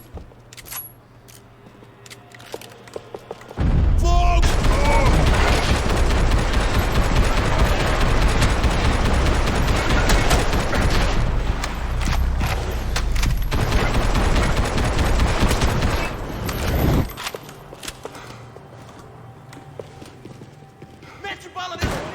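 Sustained heavy gunfire fills a Max Payne 3 firefight, a loud dense burst of shots running for most of the stretch before dropping back to quieter game ambience, with voices talking underneath.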